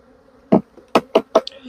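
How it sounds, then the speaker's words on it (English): Honey bees are tapped off a hive frame into a box, heard as four sharp knocks in quick succession over a faint low hum of bees, with a short high buzz at the end. "I'm going to tap them into this this box here."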